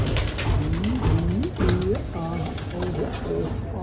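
Pigeons coo in repeated low, rolling calls close by, several overlapping, with faint background noise beneath them.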